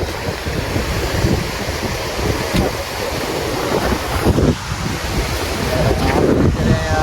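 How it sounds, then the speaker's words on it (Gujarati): Sea waves roll and break in a continuous wash of surf at Diu, India, with gusts of wind buffeting the microphone throughout. "દરિયાના મોજા જેવું કઈ રીતના લાગે"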